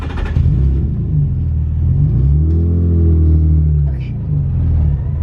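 A drift car's engine rumbles and revs under throttle, its pitch rising and falling in a loud, close drone while people talk over it.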